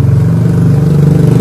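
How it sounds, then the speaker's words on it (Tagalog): Steady, loud low engine drone of a motorcycle going past on a village street, holding a constant rumble with a slight rise and fall across the moment, no voices present. "maingay, may dadaan ng motor."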